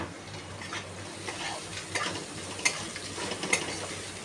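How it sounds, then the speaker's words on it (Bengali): Potato pieces and grated coconut fry together in a pan, with a steady sizzle broken by scraping and clinking stirring strokes, close and alone without voices. "আমি নারকেলটা এর মধ্যে দিয়ে দিলাম। নারকেলটাও ভাজা হোক,"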